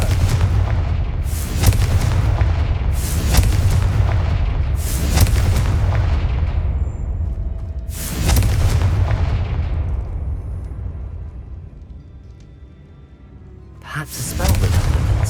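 Repeated Confringo explosive spell blasts in Hogwarts Legacy, a series of loud booming impacts roughly every second or two, each trailing off, with a gap near the end before one more blast.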